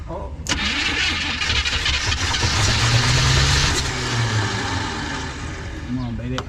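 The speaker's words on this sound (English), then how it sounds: "Turn over the engine." A 1970 Chevy C30 farm truck, parked for 38 years, cranks hard on its starter in a continuous loud grinding whir that sputters and tries to catch without firing, with a voice talking over it.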